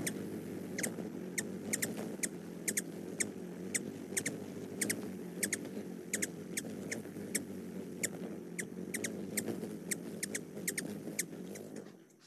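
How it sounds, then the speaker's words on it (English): A hummingbird chirps in a steady series of short, high, sharp ticks at regular intervals over a soft, continuous background hum, close and fairly quiet, with no talking. "in the background there with the little chirping of the hummingbird"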